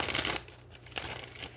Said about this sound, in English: Let's do 3 shuffles here for the sign of Pisces here.